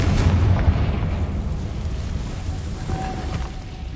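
A Confringo fire spell blast in Hogwarts Legacy lands as a deep, rolling boom that rumbles on for several seconds, heavy and close with no voices over it.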